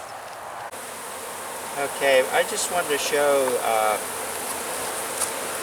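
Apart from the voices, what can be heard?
bees buzzing at the hives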